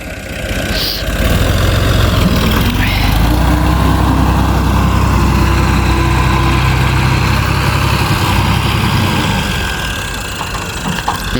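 A tractor engine idles steadily in a farm field, a loud continuous low rumble holding for most of the stretch before easing slightly near the end, with no talking.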